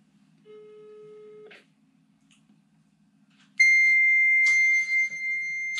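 Fax machine tones over a telephone line, a short steady electronic tone followed after a pause by a louder, sustained multi-tone screech with brief shifts, clear and alone.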